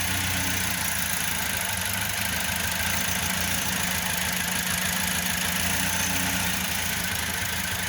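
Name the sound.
van engine idling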